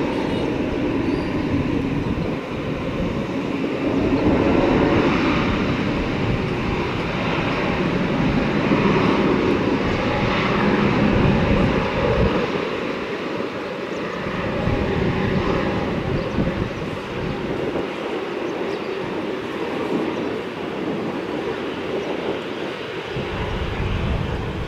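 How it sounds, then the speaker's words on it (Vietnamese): A Vietnam Airlines Airbus A320neo departs Tan Son Nhat airport with a sustained, broad engine roar that swells and eases slightly over about 25 seconds, heard from some distance without speech. "Và chiếc máy bay được lệnh khởi hành rời khỏi sân bay."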